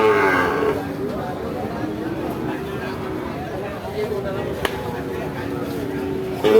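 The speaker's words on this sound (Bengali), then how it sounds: "এই গরুটা নামানো হচ্ছে দর্শক" A Sahiwal cow lets out a long, low moo at the start while being unloaded at a cattle market, followed by ongoing background noise and a sharp knock partway through.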